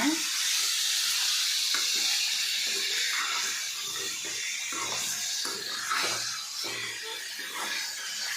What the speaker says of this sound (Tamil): எண்ணெய் ஊற்றி எண்ணெய் லைட்டாக காஞ்சதுக்கப்புறம் சிக்கன் போட்டுட்டு அந்த ஹீட்லேயே பார்த்தீங்கன்னா நல்லா வணக்கி விடுங்க